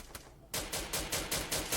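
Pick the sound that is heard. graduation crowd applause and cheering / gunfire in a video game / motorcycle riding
gunfire in a video game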